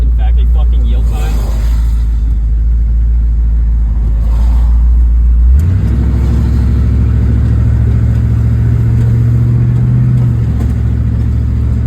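A worn-out Chevy Nova drives along with a loud, steady low engine drone that shifts pitch partway through as it changes speed, with cabin rumble throughout.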